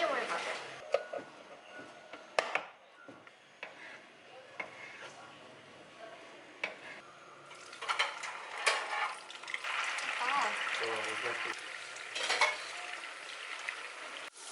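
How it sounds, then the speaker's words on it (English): Tofu frying in a pan during home dinner cooking, a steady sizzle with clinks and stirring that swells louder toward the end, under people talking throughout. "We have the tofu frying,"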